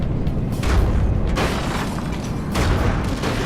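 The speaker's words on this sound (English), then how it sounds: "Something blew up." Muffled booming explosions in the naval combat game From the Depths, a dense rumbling burst with a couple of louder swells over continuous low mechanical noise.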